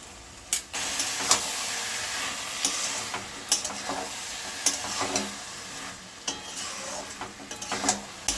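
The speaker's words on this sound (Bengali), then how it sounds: "দিয়ে ভালো করে আমি এখন মিশিয়ে নেব" Carrot halwa with raisins and powdered milk being stirred in a pan, heard as a soft continuous sizzle with repeated scraping and knocking strokes of a spoon at an irregular pace.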